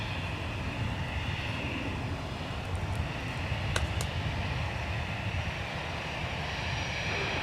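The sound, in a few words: aircraft at Minneapolis–St. Paul Airport runway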